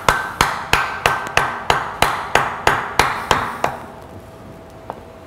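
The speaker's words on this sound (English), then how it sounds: "I do pretty good with the hammer work around here." Steady hammer blows on wood in a workshop, about a dozen sharp, close, evenly spaced strikes that stop abruptly, followed by one lighter tap.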